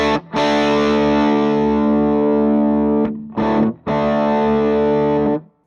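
A PRS electric guitar played through a Bad Cat Cub IV amp with the cut knob turned off rings out in sustained, distorted chords with a thick, rich tone. Two brief pauses break the chords, and no one speaks.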